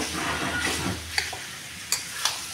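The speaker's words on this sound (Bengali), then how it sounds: "দেখো আলুটা কিন্তু সুন্দর করে মিশিয়ে নিয়েছি মশলার সাথে।" Potatoes coated in spices, hing aloo, stirred in a pan: a soft frying sizzle under a few sharp scrapes and clicks of the spoon against the pan.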